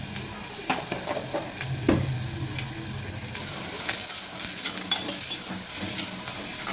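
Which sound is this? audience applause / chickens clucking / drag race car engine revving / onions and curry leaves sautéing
onions and curry leaves sautéing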